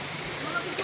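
Kalima Falls in Oriental Mindoro pours in a steady, close broadband rush of falling water, continuous across the whole brief moment.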